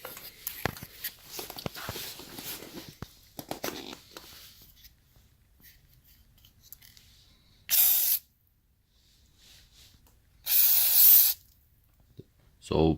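WD-40 sprayed deep into the metal mechanism of a recliner sofa, two loud, close hissing bursts of about half a second each, following a stretch of rustling and handling sounds.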